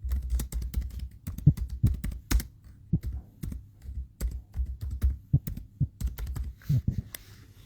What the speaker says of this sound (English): I'm typing it in now.